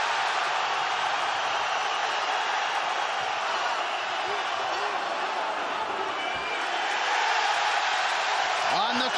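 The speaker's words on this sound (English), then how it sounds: "the crowd goes nuts as Mark Hunt slips away" An arena crowd at an MMA fight between Mark Hunt and Bigfoot Silva roars in a dense, continuous wash, loud and sustained, swelling slightly near the end beneath excited commentary.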